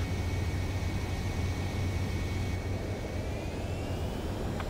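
A fixed-wing aircraft in Ace Combat 7 descends toward a runway to land, its engine roar forming a steady broad drone with a faint whine above it, heard alone throughout.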